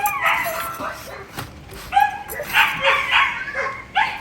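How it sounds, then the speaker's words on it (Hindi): Several dogs bark close by in repeated bursts, mixing deeper bow-wow barks with sharp yips and a brief whimper. The barks come and go in an uneven rhythm with short gaps between them. "ये देखें ये मेरे पीछे ना एक्चुअली में ना कुत्तों के बोलने की आवाज़ आ रही है।"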